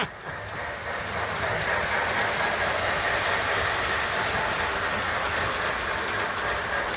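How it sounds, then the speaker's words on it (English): A train rumbles steadily along the rails with a broad, continuous roar and faint clickety-clack, close and loud throughout, with a bird calling faintly in the background. "Let's get this train going again."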